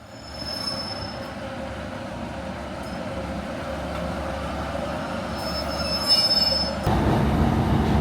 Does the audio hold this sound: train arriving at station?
yes